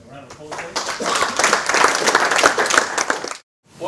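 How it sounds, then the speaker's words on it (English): An audience at a Perth crop-research conference gives a round of applause: clapping swells quickly to a dense, steady patter for about three seconds, then cuts off abruptly into silence. "John, a round of applause,"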